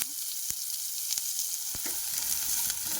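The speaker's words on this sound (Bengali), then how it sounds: "পেঁয়াজটা হালকা করে আমি নেড়ে ছেড়ে নিয়েছি, একটু লাল করে নিয়েছি।" Onions fry in a pan and are stirred, giving a constant bright sizzle broken by three or four distinct spatula knocks and scrapes, close by.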